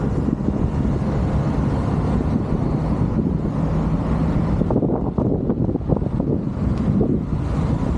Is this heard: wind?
yes